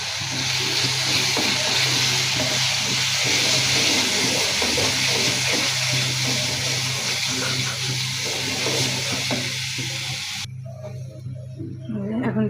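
Raw tomato going into a hot pan of sizzling blended ginger, garlic and onion paste while cooking prawn bhuna, a steady loud hiss and crackle running throughout before easing off at the end.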